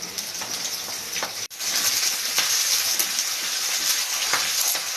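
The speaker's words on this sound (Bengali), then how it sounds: "এবার এটাকে হালকা করে ভেজে নেব" Chopped onion, garlic and bay leaf sizzle and crackle steadily in hot oil, a loud continuous frying hiss with brief stirring pops and one short dip.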